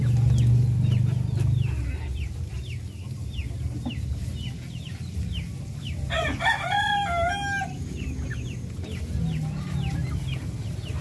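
Darag native chickens cluck and mutter steadily while feeding on a farm, and a rooster lets out one clear, loud crow midway through.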